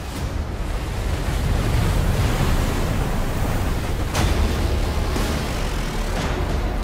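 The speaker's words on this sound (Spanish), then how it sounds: "olas de más de 12 metros de alto, que alcanzan en algunos puntos velocidades de cientos de kilómetros por hora" Tsunami waves over 12 metres high surge onto land at Fukushima, producing a dense, continuous roar of rushing water and wind-like noise, loud and unbroken throughout.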